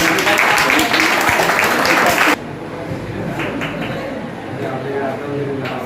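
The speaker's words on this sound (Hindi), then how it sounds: "Lot of applause." A school audience at JNV Akkalkuwa watching the live Chandrayaan-3 soft-landing broadcast breaks into loud, dense applause for about two seconds, then it cuts off abruptly to quieter broadcast commentary with a few scattered claps.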